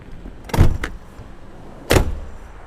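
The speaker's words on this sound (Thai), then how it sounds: "มันจะเก็บตัวรองก้นดีดขึ้นมาแบบนี้ และเราก็สามารถเลื่อนเข้าเลื่อนออกได้" The rear seat cushion of a 2018 Hyundai H1 2.5 Deluxe flips up and slides inside the cabin, giving sharp plastic-and-metal clunks: a double knock, then a single louder one, close and clear.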